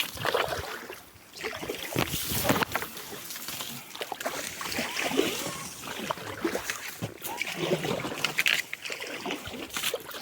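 Inflatable kayak drifting down the Virvytė river, with water trickling and sloshing against the hull and occasional paddle splashes, steady and close, with faint voices now and then.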